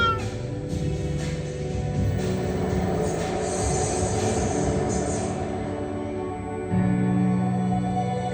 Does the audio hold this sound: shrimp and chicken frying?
no